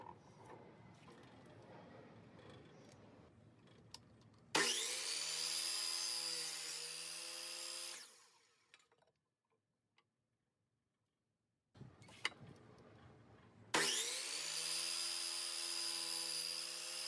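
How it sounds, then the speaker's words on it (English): A DeWalt power sander smoothing the rough edges of oak boards runs in two loud, steady bursts with a high whine, separated by a quiet pause, with no talking. "using my DeWalt sander, sanding all of the rough edges in one fell swoop"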